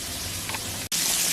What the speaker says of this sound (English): my fish has been frying for 10 minutes